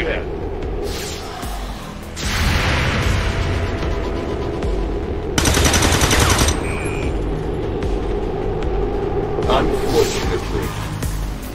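Bursts of gunfire from the XCOM 2: War of the Chosen video game come in loud rolling volleys with an occasional boom, while game voices talk over the shooting.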